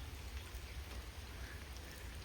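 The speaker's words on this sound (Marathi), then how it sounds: "मी ना आता गाडी धुतली होती आणि पाऊस बी चालू झाला" Rain falling just after a car has been washed, a steady soft patter of drops on surfaces, continuous and fairly faint, with no talking.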